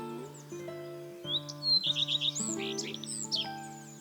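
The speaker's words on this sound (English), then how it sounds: "One of the first birds that I came across singing really quite wildly at the top of this conifer was Common Redstart." A Common Redstart sings from the top of a conifer at a heath woodland: quick high chirps and a fast trilled phrase, fairly close, over a steady background of other tonal sounds.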